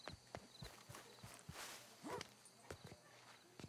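A horse's hooves clip-clop at a walk in the video game Red Dead Redemption 2, a steady run of crisp, fairly quiet strikes over a soft, constant outdoor ambience.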